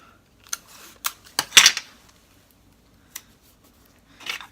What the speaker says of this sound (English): And then I'm going to just tape this down.